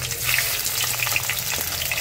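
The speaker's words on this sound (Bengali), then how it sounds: "বেরেস্তা করার তেলের মধ্যে আমি মাংসগুলো একটু হালকা করে ভেজে নেব।" Chicken pieces frying lightly in the leftover oil from browning onions for a chicken roast, a dense, continuous bright sizzle heard close up with no talk.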